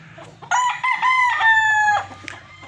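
A gamefowl rooster crows once, close and clear, with a rising opening note and a long held call lasting about a second and a half, followed by a few short fowl sounds and quiet barnyard background.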